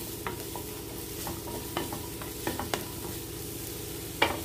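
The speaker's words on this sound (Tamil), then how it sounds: "மஷ்ரூம் போட்டு நல்லா வதக்கிடுங்க." Mushrooms sauté in a pan for an omelette, giving a soft, steady sizzle with scattered clicks and scrapes of a spatula stirring, close and fairly quiet, with no voices.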